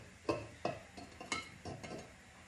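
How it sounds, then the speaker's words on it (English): Eggs set one by one into a glass jar, giving soft clinks and taps at an irregular pace, faint and close. "next all we're gonna do is you're going to carefully put your eggs"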